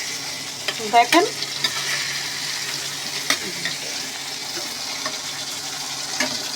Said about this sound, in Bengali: বেগুনগুলোকেও ভেজে নিচ্ছি, টমেটোগুলোকেও ভেজে নিচ্ছি